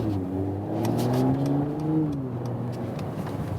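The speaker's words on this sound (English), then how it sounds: "but you already hear some exhaust note, of course" A 2019 Mercedes E53 AMG Estate in comfort mode gives a fairly close exhaust note, a smooth engine drone that swells as it revs and then eases back, with no voices.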